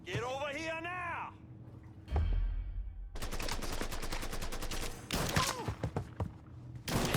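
Bursts of gunfire in the Mafia 3 video game ring out in rapid volleys amid a loud battle scene, with a deep thump early on and shouted voices over the shooting.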